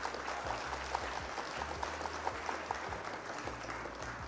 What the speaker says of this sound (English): Round of applause for Mitch.